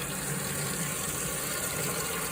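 Water rushes steadily from a single-handle stall shower with strong pressure, a dense continuous spray hiss close by.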